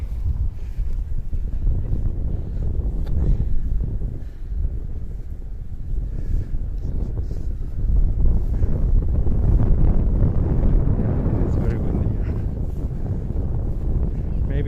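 Steady, heavy wind buffeting the microphone on a Tokyo walk between Kokubunji and Hino, a low roaring rumble that swells louder midway and never lets up.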